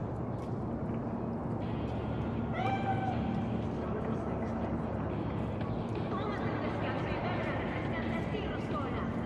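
Cat spirit (bakeneko) meowing in the video game Cyberpunk 2077, a few drawn-out mews over a steady low game ambience, with a second cry later in the clip.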